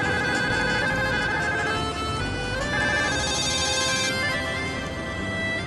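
A telephone ringtone plays loud and continuous, a bright electronic melodic ring repeating with steady tones and no voices.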